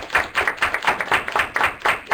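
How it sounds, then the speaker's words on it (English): A round of applause for presenters at an academic writing session, made up of a few people clapping in a quick, fairly even rhythm, heard close and moderately loud with no talk over it. "So let's give them a round of applause."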